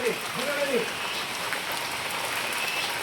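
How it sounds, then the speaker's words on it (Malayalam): Heavy rain pours in a dense, continuous hiss, drumming steadily on surfaces close by, with a brief bird chirp at the start. "അപ്പൊ നല്ല മഴയാണ് മക്കളെ. നല്ല മഴ എന്ന് പറഞ്ഞാൽ നല്ല മഴ."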